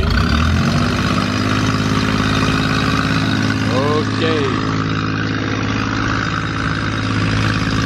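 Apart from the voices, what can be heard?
boat engine running with a problem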